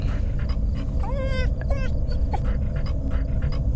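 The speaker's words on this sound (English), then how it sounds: "Okay, it's a dog. Got a dog here." Two dogs at a house, one giving a short high whimper between about one and two seconds over steady background noise and low rumble; panting is not clearly separable.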